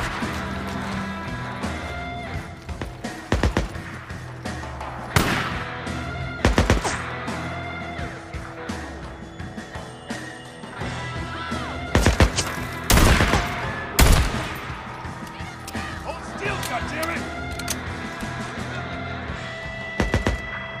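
Gunfire in the video game Days Gone at an ambush camp: bursts of rapid shots and sharp single cracks come at irregular moments over a busy background of game noise.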